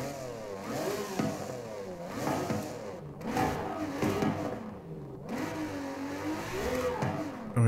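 Ferrari with a 6-liter V12 engine revs hard in Forza Horizon 5, its pitch climbing and dropping repeatedly through gear changes as the car slides, loud and continuous with no talk.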